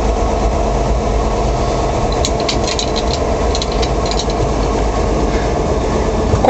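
A 1951 Chevrolet five-window pickup with a stock, original exhaust runs at a steady idle, a constant low rumble with a few faint metallic clicks partway through.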